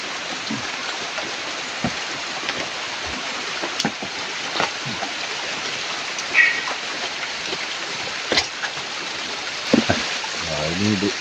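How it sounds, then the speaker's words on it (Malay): Small garden waterfall fed by gravity piping, a steady broadband rush of falling water running throughout, with a few louder splashes and knocks and a brief voice near the end. "So, ini mini air terjun."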